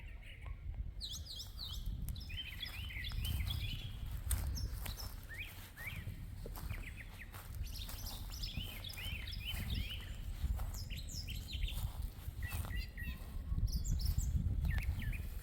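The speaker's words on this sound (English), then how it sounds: "39 degrees, and the birds are nice and loud." Many spring birds chirp and trill loudly outdoors on a cool April day in a garden, their songs repeating throughout over a steady low rumble of wind or distant noise.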